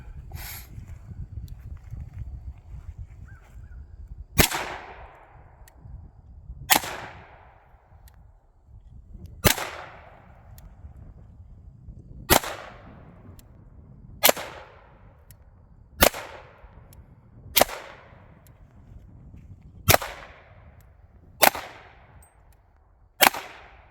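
A Ruger Mark III pistol fires at a target about seven yards away: ten sharp, loud single shots spaced a couple of seconds apart, each ringing briefly against a quiet background.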